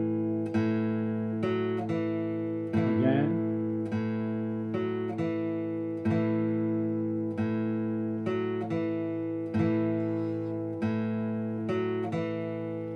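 A plucked string instrument picks out a slow sequence of single notes, each ringing briefly before the next, clear and close with no talking.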